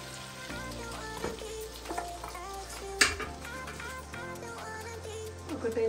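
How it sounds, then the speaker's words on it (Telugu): Butter and oil sizzle steadily in a pan for kadai paneer, a soft continuous frying hiss with occasional small pops and clinks against a low background hum. "ఆయిల్ కూడా వేస్తున్నానండి."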